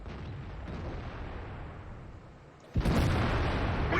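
An ISU-122S tank gun in World of Tanks fires a single heavy, booming shot after a stretch of low rumbling battle noise, loud and close.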